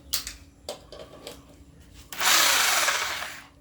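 A Wondercut WC-GP-2-26B 1600 W rotary hammer drill rated at 1100 rpm makes a few short trigger blips, then starts and runs loudly and steadily close by, winding down slightly at the end.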